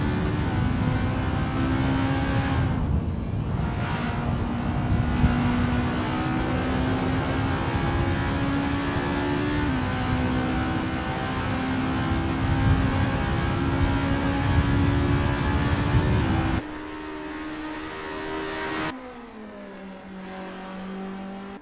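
Racing cars warming up at the Zandvoort circuit in a Formula-style championship race, engines droning steadily with rising and falling revs for most of the stretch, then the roar drops away abruptly to a quieter, lower hum near the end.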